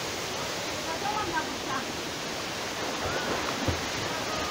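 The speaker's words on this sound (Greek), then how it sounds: "Ο πανέμορφος καταράκτης στο μονοπάτι του νερού, στην παλιά Καβάλα." Waterfall on the water trail in Old Kavala, a steady broadband rush of falling water that fills the whole clip at an even level, with faint incidental sounds briefly surfacing over the roar.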